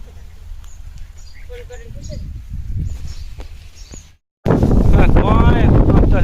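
Strong wind blows across an open field, buffeting the microphone with a low roaring rumble that swells in gusts, drops out briefly, then returns louder and more constant.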